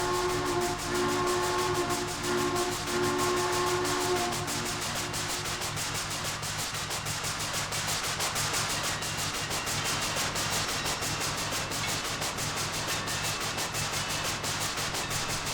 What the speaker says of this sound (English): the chuffing sounds are deafening and even drown out the bell and the whistle